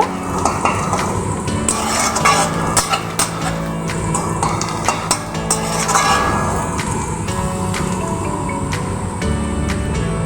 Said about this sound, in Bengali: তাই আমি তেলের মধ্যে একটু নেড়ে নেব